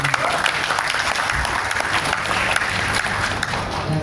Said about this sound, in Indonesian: Sekali lagi tepuk tangan buat beliau-beliau semua.